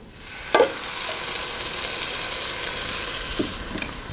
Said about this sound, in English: So next we're going to add a can of diced tomatoes in their juices.